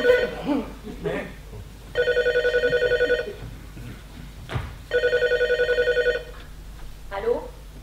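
A telephone rings during a stage play in two long electronic trilling bursts, loud and close, with people talking around and between the rings.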